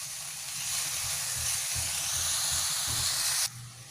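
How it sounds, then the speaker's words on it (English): Garlic and chili stir-fry in a hot pan, giving a steady close sizzle and hiss with soft scraping strokes of a spatula, then the sizzle cuts off abruptly near the end. "Stir fry the garlic. Next, put in the chili."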